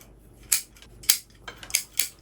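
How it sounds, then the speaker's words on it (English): Sharp snips of bonsai scissors cutting branches while pruning a cotoneaster bonsai: five crisp, close metallic clicks spaced unevenly over a couple of seconds, with quiet pauses between cuts. "Love the sound of these scissors."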